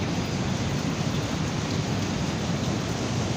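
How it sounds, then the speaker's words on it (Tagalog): Heavy typhoon rain pours steadily with a dense, constant hiss and rumble, loud and unbroken throughout, heard from a high floor, with no voices. "grabe yung ulan"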